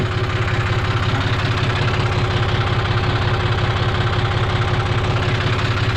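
A brush cutter fitted with a 540e-type engine idles in an oil palm plantation, a steady, close, loud engine hum with a fast rattling pulse that holds even throughout, with no voices.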